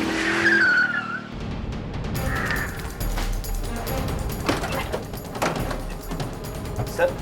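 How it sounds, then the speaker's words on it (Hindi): A car brakes hard to a stop in a short film scene, tires squealing and skidding loudly on the road, followed by rumbling and scraping noise. "बस रोको गाड़ी।"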